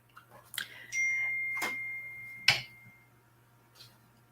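A mobile phone chimes with notification dings during a poetry reading event: two bright tones with a ringing tail, then a sharper ding, heard fairly close with faint room noise and no talking.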